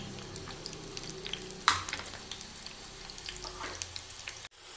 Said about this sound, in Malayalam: ഞാനിതിലേക്ക് കുറച്ച് കൊച്ചുള്ളി അരിഞ്ഞത് ചേർത്ത് കൊടുക്കുകയാണ്. നല്ലോണം മൊരിച്ചെടുക്കണം കൊച്ചുള്ളി.